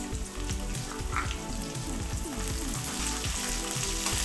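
Onions frying in hot oil for pallav rice, a steady, close, dense sizzle with a busy crackling texture throughout, no voices.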